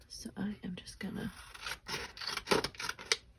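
Scissors snip through paper for a junk journal, a string of short crisp cuts in quick irregular bursts, close up, with soft handling noises between them and a quiet voice speaking at times.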